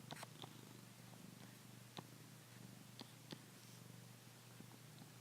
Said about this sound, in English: That's Aggie purring in the background, by the way.